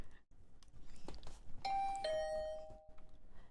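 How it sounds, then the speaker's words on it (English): Doorbell in the video game Hundred Line: Last Defense Academy, ringing repeatedly with bright ding-dong chimes that overlap and sustain, fairly quiet. "The usual morning announcement was drowned out by the sound of a doorbell ringing over and over."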